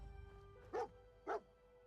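Dogmeat, the dog in the Fallout game, gives two short, quiet barks about half a second apart over soft game ambience.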